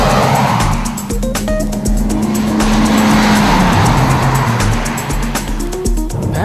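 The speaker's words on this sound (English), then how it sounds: "this car always feels lethargic and you really have to work the gearbox to keep the engine on the boil" A Toyota Verso works hard on the road, its engine droning loudly and steadily with rising and falling revs through gear changes, close up and continuous, with no talk.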